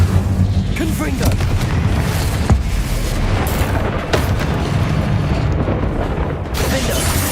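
Confringo blasting curse explosions go off in Hogwarts Legacy during a spider fight, heavy booms layered over a dense, continuous rumble of game effects and music, with a few sharper bursts standing out.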